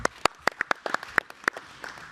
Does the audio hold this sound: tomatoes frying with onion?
no